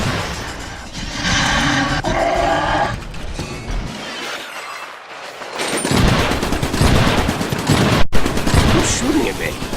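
Gunfire and explosions from a battle in the game Trenched Iron Brigade: dense, loud rattling bursts and roaring blasts, a brief dip, then renewed heavy firing with a sharp crack near the end.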